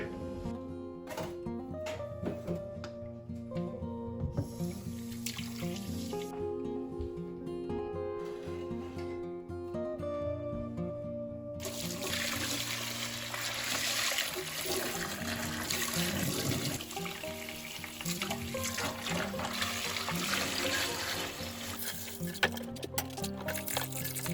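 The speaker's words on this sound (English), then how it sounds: "now I'm gonna show you how I wash dishes without any hot water." Cold tap water runs and splashes steadily into a kitchen sink while dishes are washed by hand in a Finnish countryside home in winter, a continuous close pouring wash with occasional clinks throughout.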